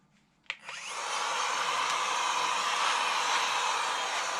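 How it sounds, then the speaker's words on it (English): An air blower used to clean a laptop starts with a sharp click, then settles into a loud, steady, close rushing whoosh that holds for several seconds with no talk. "we're gonna use this blower"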